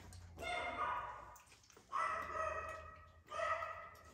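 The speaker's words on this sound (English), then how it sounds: "that's Lily barking." A dog barks and yips in repeated bursts, somewhat distant and muffled indoors, with quiet household noise between bursts.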